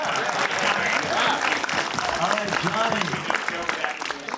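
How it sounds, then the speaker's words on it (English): Audience at a film festival pitch event claps in a dense burst of applause that gradually thins, with a person talking over it. "Let's clap for the integrity of not sharing with us."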